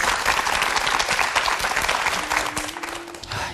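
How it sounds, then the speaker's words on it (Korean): Studio audience at a Korean TV talk show applauding warmly, a dense, steady wash of many hands clapping that holds strong before tapering slightly near the end. "여러분 뜨거운 박수 한번 좀 보내주시겠습니다"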